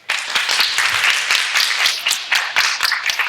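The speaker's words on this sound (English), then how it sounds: "give a big, warm, Eerie Echoes round of applause to Elaine" A small audience at a live Halloween show claps in a warm burst, near and fairly loud, with uneven individual claps standing out over about three seconds.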